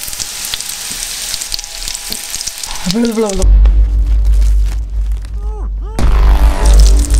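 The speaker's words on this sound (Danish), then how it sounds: "så begynder jeg at putte dem på panden, og så holde øje med dem, så de ikke brænder på" Breaded chicken nuggets frying in a pan, a steady loud sizzle and crackle that swells as more pieces go in, with brief clinks and a few whistling sounds over it.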